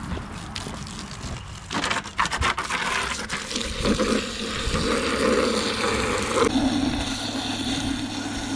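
Water poured into a container while making Korean natural farming fermented plant juice: a rushing, splashing fill sound that grows steadier and fuller, preceded by some handling clatter, close by and without speech.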